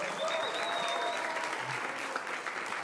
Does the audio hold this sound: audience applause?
yes